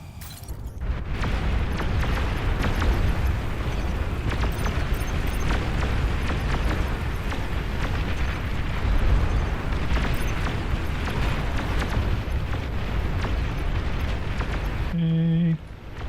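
A bombing run in a video game sets off a sustained, dense roar of rumbling explosions that stays loud and continuous before cutting off near the end.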